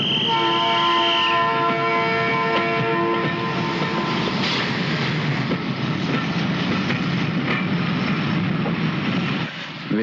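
A train runs along the tracks, a loud continuous rumble and rattle of wagons with a sustained tonal whine at the start, holding steady close by for the whole stretch.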